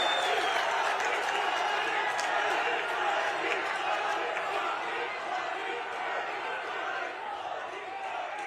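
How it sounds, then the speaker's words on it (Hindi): A big outdoor political rally crowd in Uttarakhand roars and claps for the Prime Minister in a dense, continuous wash of noise, loud and steady throughout, with scattered shouts rising above it. "एक बार जोरदार तालियां"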